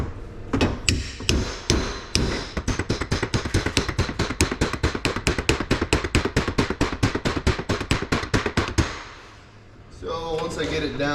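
Rapid, steady hammer taps striking metal as a bearing is driven into place on a final drive, dozens in a row at a quick even rhythm, close and loud, then a brief pause and faint rustling.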